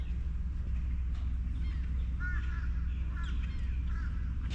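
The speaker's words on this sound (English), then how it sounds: "I hear a gull" A few faint, distant gull calls in short squawking bursts over a steady low engine rumble, near Cumberland Island.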